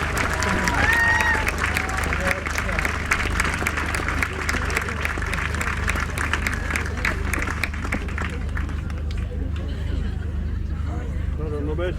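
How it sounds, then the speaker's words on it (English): A crowd at a Highland Games event in the Peak District claps and cheers continuously, a sustained wash of applause with chatter mixed in, tapering off toward the end. "Big round of applause there for Lovely!"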